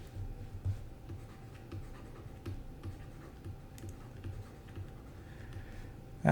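Pen strokes on paper as the word philosophy is written by hand, soft scratchy ticks in a steady run close by, with low background hum and no voices.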